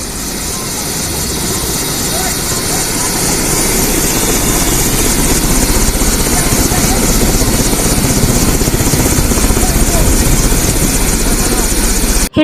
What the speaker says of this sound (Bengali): মঙ্গলবার দুপুরের দিকে ঢাকা থেকে হেলিকপ্টারে করে কুড়িঘর উচ্চ বিদ্যালয় মাঠে অবতরণ করেন তিনি